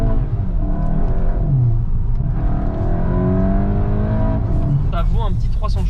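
A Volkswagen Golf 8 GTI with 245 hp accelerating hard under full throttle, its engine note rising steadily from inside the cabin while someone talks over it.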